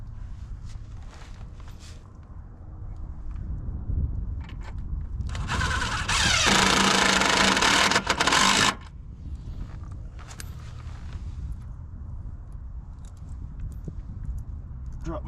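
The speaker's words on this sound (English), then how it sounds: "So I'm going to line it up and send these screws in." A power driver whirs in a single sustained burst while screws are sent into a new bass boat trailer bunk board, close and fairly loud, with quieter handling noises and brief speech before and after.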